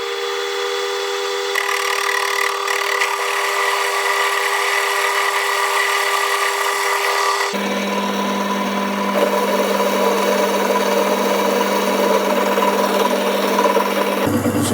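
A metal lathe turning steel stock for a new draw bar bush, a loud, steady machine whine with a sustained cutting tone that shifts character halfway through, close up with no talk.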